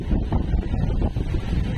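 Strong typhoon wind from Typhoon Aghon buffets the microphone in loud, continuous low rumbling gusts that surge and ease without a break.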